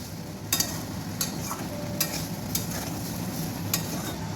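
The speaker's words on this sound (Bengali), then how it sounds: "আদাটা দিয়ে ভালো করে একটু কষে নেব।" Ginger paste fries in a pan for milk shukto under a steady, moderate sizzle, while a utensil scrapes and taps the pan at roughly half-second intervals, close and clear, with no voices.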